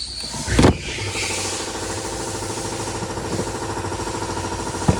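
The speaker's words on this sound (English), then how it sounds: "Sorry about the compressor." An air compressor running steadily nearby during Nissan Juke blower motor work, a continuous mechanical hum with a regular pulsing beat, a sharp clunk near the start and a faint click at the end.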